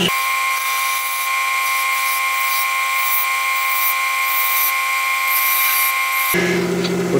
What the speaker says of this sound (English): Now I'm going to take my spindle gouge,